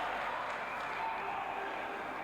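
Crowd at an international futsal friendly between Solomon Islands Kurukuru and Gold Coast Force cheering after a great save, a steady, dense roar of voices filling the hall throughout.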